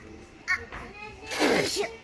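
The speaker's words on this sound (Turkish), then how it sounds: "Nasıl hapşırıyor ya?" A child's sneeze from a Turkish kids' toy-shopping outing: a short sharp burst followed by a louder, drawn-out second sneeze with a voiced tail, heard up close.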